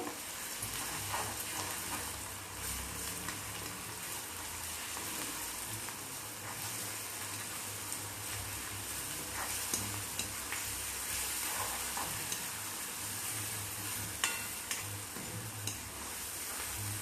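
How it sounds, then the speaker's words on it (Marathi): Onion with garlic-coriander paste sautéing in a pan for a prawn chutney, a steady close sizzle broken by occasional spatula clicks and stirring scrapes, with no talking. "त्याच्यामध्येच आपल्याला लसूण आणि कोथिंबीरची पेस्ट आहे ते टाकायची ह्याच्यामध्ये ते पण छान असं परतून घ्यायचे"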